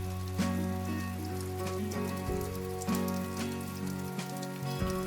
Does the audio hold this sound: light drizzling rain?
yes